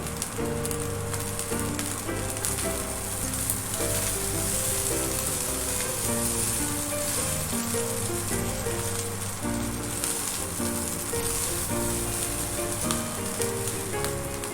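Cooked rice frying in a pan for guli kabab rice, a dense continuous sizzle with crackling spatter filling the whole stretch at steady loudness, with no talk.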